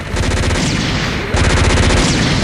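Rapid bursts of weapon fire from a mobile suit in SD Gundam Online, a dense loud stream of repeated shots in two sustained volleys, with no talking.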